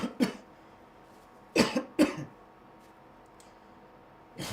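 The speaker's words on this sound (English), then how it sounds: "I got a cough, and I don't like to do that in camera." A man coughs several times in short bursts, one early, two close together mid-way and another at the end, near and fairly loud against a quiet room.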